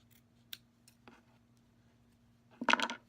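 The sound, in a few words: scissors cutting fabric for plush hat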